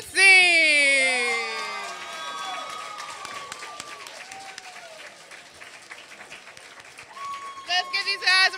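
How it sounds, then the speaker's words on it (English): A school drama and theater arts showcase audience breaks into shrill whoops and cheers that quickly settle into a long stretch of scattered, fairly quiet applause, with a few bright shouts returning at the end. "Let's give these guys a round of applause."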